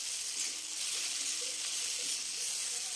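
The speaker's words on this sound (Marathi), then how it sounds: "आता आपण भेंडीचा जो ठेचा केलेला आहे तो घालून घेऊया." Crushed okra thecha stirred into onions frying in oil, a soft, even hiss of sizzling throughout with faint scraping, no voices.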